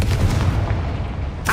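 A Confringo blasting curse explodes in the video game Hogwarts Legacy, a burst of booming impact at the start that rumbles and fades, with a brief sharp crackle near the end.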